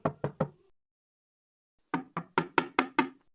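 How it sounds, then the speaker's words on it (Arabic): Knocking on an apartment door: a quick burst of three sharp raps, a pause of over a second, then a louder run of six knocks, close and clear with no talk over them. "طب خبط يا ابني"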